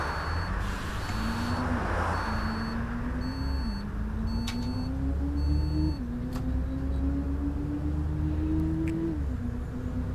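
An Enviro400 bus engine in the OMSI bus simulator drones steadily, its pitch sliding down in short steps as it decelerates, with periodic electronic beeps over the engine throughout.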